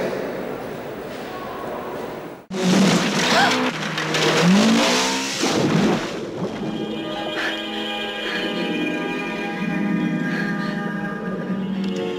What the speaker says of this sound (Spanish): Vamos a hablar con otro coche, que es el que conduce James Bond en la película La Estrella que ganó en el año 77